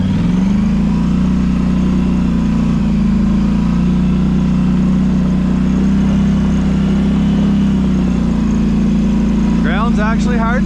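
A Polaris Sportsman 850 ATV engine running steadily close by, a loud constant low drone at idle or light throttle, with a short burst of birdsong near the end.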